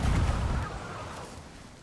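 A deep, booming cannon blast in Sea of Thieves fades into a rumbling tail.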